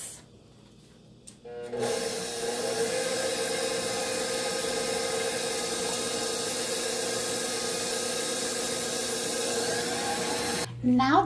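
An electric mixer beats butter, sugar and eggs for a rum cake, a steady loud whirring hum that starts after a brief quiet moment and runs evenly for about nine seconds before stopping.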